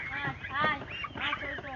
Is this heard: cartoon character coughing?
no